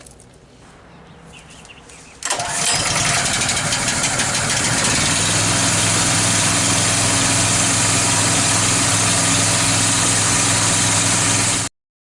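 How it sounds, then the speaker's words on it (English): A duct cleaning vacuum machine starts up abruptly and runs with a loud, steady drone and hum for about nine seconds before cutting off sharply, with no talking. "Wyatt's finished vacuuming out like all the surface dust"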